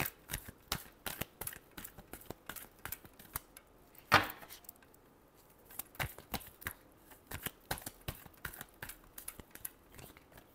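Tarot cards being shuffled by hand in quick, crisp riffling bursts, close and fairly quiet, with a sharper snap near the middle and no talk.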